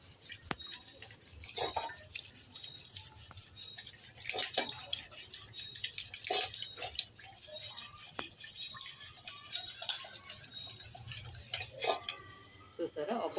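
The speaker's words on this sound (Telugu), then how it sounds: "జస్ట్ ఇలా నార ఉంటుంది కదా, దీంతో ఇలా తోమేసేయండి." A burnt milk bowl scrubbed firmly with a coir scrubber in soapy surf water: repeated close rasping rubs and wet scraping strokes, with faint splashes and clinks, continuing throughout.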